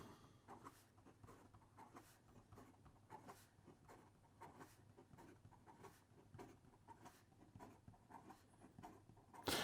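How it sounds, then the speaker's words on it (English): An Opus 88 Demonstrator fountain pen moves quickly across paper, making close, quiet scratchy strokes in a rapid, irregular rhythm with brief pauses between words. "And in regard to some fast writing"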